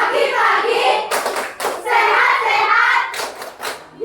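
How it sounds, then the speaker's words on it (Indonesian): A class of fourth-grade pupils in a classroom chants a morning clap routine, voices in unison broken by short bursts of group clapping. "Tepuk semangat pagi."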